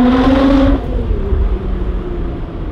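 Lotus Exige Sport 380 engine pulling at half throttle: a loud, close, steady harmonic drone for under a second, then dropping to a quieter, rougher hum with road and wind rumble.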